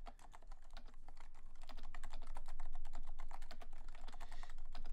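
Fast continuous typing on a black Leopold FC660C silent-version Topre keyboard, a steady run of soft, muffled keystrokes close up with no talking.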